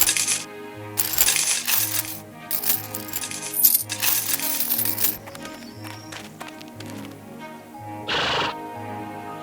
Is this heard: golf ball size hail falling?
no